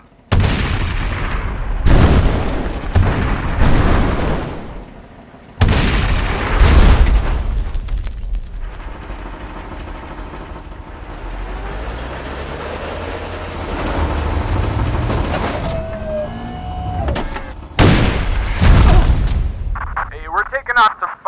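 Loud booms and blasts from exploding RC models in a staged battle, with heavy low rumble and bursts between bouts of dialogue voices and radio-style chatter.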